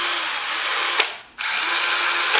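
A Bosch GSR 120-Li cordless drill with a replaced motor whirs steadily at high pitch, briefly cutting out and spinning back up, close and loud with no talk.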